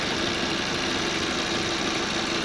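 A 2003 Audi A4 B6 1.8T petrol engine, chain-driven and 120 kW, idles steadily, a loud continuous rumble with a slight knocking texture, close by and with no voices.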